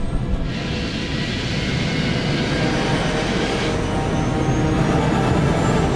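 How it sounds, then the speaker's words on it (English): An airliner's engines roar at full takeoff thrust as the plane rotates and lifts off the runway, a loud, steady, broadband rush filling the whole stretch without pause and with no talk. "the pilots lift the plane off the ground"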